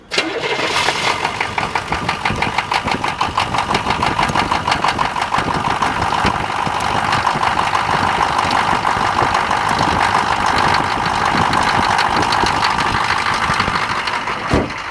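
A 6.2 diesel engine in a Chevrolet K5 Blazer cranks and catches on a cold, snowy day, then settles into a loud, steady, clattering idle close by.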